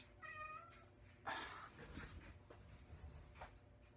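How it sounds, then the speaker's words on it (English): A cat meows a couple of times nearby, short and plaintive, against a quiet room. "you're just over here meowing away"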